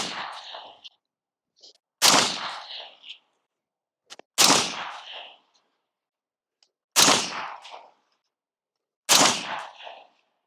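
Four loud, sharp unsuppressed .30 caliber rifle shots, each with a brief echoing tail, spaced roughly two to three seconds apart in an otherwise quiet outdoor setting, a few faint clicks between them.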